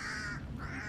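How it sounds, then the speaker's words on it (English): Single harsh crow-like caw from a bird in the medieval combat game For Honor, heard alone and fairly faint. "Bird."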